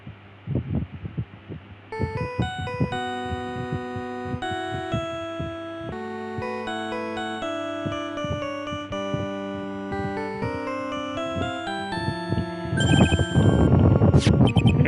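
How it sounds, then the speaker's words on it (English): A phone ringtone plays a melodic electronic tune in stepped beeping notes for most of the stretch, ending in a louder, denser burst of tones; no one speaks. "What kind of ringtone is that?"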